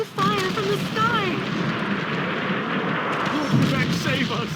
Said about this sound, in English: It's raining fire from the sky!